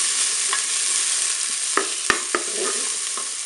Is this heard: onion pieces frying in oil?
yes